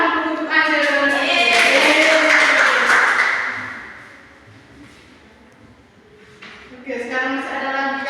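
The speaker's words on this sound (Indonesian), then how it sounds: "tepuk tangan dulu untuk Anjar" A classroom of pupils claps for a classmate in a brief burst of applause mixed with children's voices, fading away before a teacher resumes talking.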